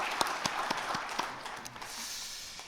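A church congregation at a Sunday afternoon worship service claps in encouragement, a brief burst of scattered hand claps at moderate distance that quickly thins and fades into room murmur.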